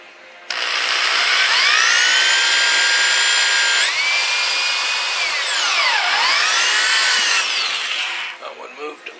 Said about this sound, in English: Gently drilling in.